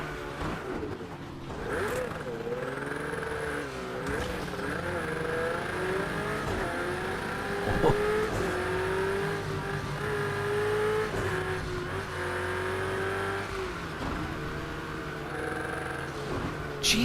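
A Ferrari race car engine in Project CARS 2 revs and winds up through rising and falling gear changes, a steady loud whine with sharp upshifts and a brief tire squeal, running continuously for over fifteen seconds.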